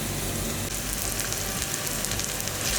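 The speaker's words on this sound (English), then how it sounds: "My onions are being cooked in about 6 minutes, and they are light brown now" Onions frying steadily in a pan for a Kerala-style prawn roast, a continuous dense sizzle with fine crackling, close and even throughout with no talk.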